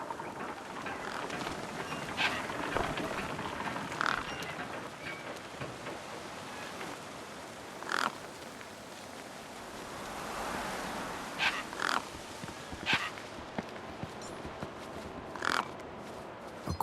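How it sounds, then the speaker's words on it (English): Crows cawing over a corpse propped against a rock in the video game Beyond a Steel Sky, several harsh caws spaced irregularly across a quiet background hiss, some louder and nearer, others fainter. "No way I was going to get between those birds and their feast."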